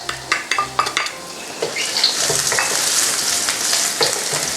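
Garlic sizzling and frying in a hot wok, with a few sharp metallic clinks and scrapes of a utensil at the start, then a steady loud crackle.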